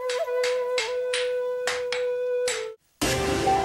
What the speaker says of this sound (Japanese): 何やら光るものを打っているハンマーを打つ男が